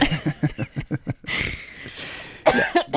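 A run of sharp coughs in quick succession, close and loud, followed by a muffled throaty stretch and a couple more coughs near the end.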